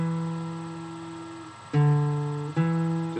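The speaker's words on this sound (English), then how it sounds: "It's going to be a hammer on like this" Guitar note ringing and fading, then two crisp new notes sounded by hammering a ring finger onto the fretboard without picking, each sustaining cleanly and close, with no talking.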